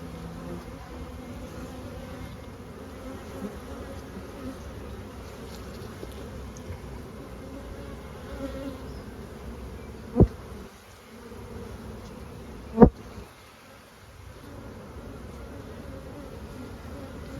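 Honeybees humming steadily at an open hive during a swarm check, a soft continuous drone with a couple of sharp knocks from handling, no voices.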